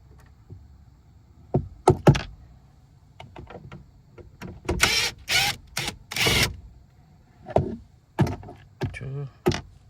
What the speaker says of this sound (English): And the next step is to remove these 3 bolts.